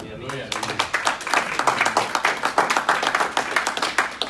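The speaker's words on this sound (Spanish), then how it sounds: "Dale un aplauso a él." Applause and clapping break out among a church congregation during a Spanish-language Bible institute sermon, a steady wash of many hands lasting several seconds, close and fairly loud, with voices mixed in.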